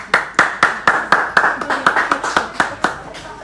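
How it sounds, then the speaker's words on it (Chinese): Rhythmic group clapping at a wedding, steady close claps in a regular beat of about three per second, loud and clear with no voices over it. "让我们送上祝贺的掌声了"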